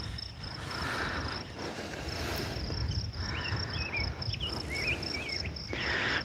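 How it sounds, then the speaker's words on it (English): Crickets chirp in a steady high pulsing trill beside a mountain lake, with bird calls and faint outdoor ambience mixed underneath, fairly quiet and continuous. "Hear the crickets, the woodpeckers in the background."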